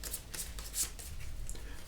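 A deck of board game cards for the tabletop war game Undaunted: Reinforcements is shuffled up close, a quick run of crisp riffling bursts lasting a couple of seconds.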